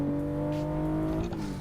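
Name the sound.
car driving in video game Assetto Corsa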